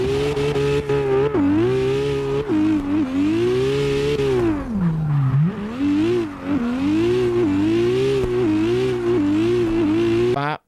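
A racing car engine revs hard and continuously, its pitch climbing and dipping through repeated throttle blips with one deeper drop midway, loud and close with no talking over it.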